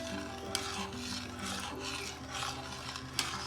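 A spoon rasps and scrapes steadily around a pot of creamy clam chowder made with Pismo clams as water and half and half go in, a continuous close stirring with a couple of sharper knocks against the pot.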